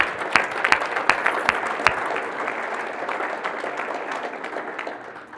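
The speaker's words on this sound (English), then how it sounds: "can we please give them a big round of applause?" An audience at a CFA 70th anniversary celebration applauds steadily, with sharp individual claps standing out at first before settling into a dense, even wash of clapping.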